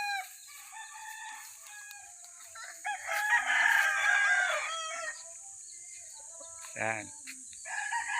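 Pet chickens cluck and a rooster crows close by, a dense cackling burst in the middle followed by a shorter call, with a brief spoken word at the start.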